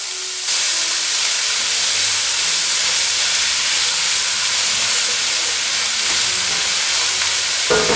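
Mirepoix vegetables sizzle steadily in a pot over beef fond from braised short ribs, a continuous loud hiss of frying with faint stirring and scraping underneath, no voices.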